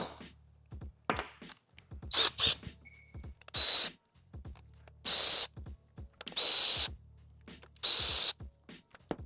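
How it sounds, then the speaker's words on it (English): Electric ratchet loosening bolts on a BMW E36 cooling system, whirring in several short bursts separated by quiet gaps, with clicks and handling noises in between. "Once you break them loose, I guess you can grab the ratchet. Then the electric ratchet, that is."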